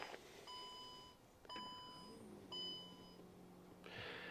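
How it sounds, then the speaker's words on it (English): Warning chimes from a 2022 Jeep Compass plug-in hybrid: three separate clear electronic beep-bong tones spaced about a second apart, each ringing briefly with a steady pitch, heard inside the car without talk. "All those beeps and bongs, there is lots of beeps and bongs in this car."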